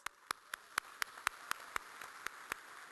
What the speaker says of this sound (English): I would like to take a moment to give ourselves a round of applause